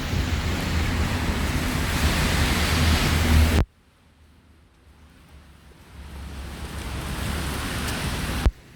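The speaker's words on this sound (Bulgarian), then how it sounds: "вали дъжд" Rain falls on a Friday walk through Tarnovo as a steady, loud broadband hiss that cuts off abruptly partway through, then slowly returns to full strength.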